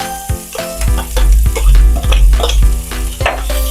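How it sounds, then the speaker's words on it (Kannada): Chopped onions frying in hot oil with mustard seeds, cumin and curry leaves for a Kannada-style potato palya, loud close sizzling with repeated scraping stirs of the spatula against the pan, no voices. "ಇದಾದ ನಂತರ ನಾನು ಏನು 2 ಉಳ್ಳಾಗಡ್ಡಿ ಸಣ್ಣದಾಗಿ ಕಟ್ ಮಾಡಿ ಇಟ್ಕೊಂಡಿದ್ದಲ್ರಿ ಅವನ್ನ ಸೇರಿಸ್ತೀನಿ ನೋಡ್ರಿ"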